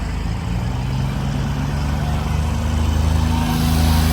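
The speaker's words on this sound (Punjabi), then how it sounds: "ਲੱਗਾ ਟਰੈਕਟਰ ਚੱਲਣ" A New Holland tractor at a village trolley-pulling contest strains to haul a heavily loaded trolley, its deep engine drone steady and loud throughout with a low throbbing rumble and no talk.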